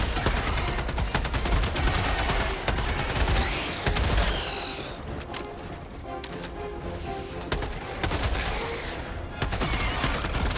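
Heavy, continuous gunfire and explosive bombardment in Helldivers 2 sound as dense bursts of rapid shots and blasts, loud and close for the whole stretch, easing slightly midway before building again.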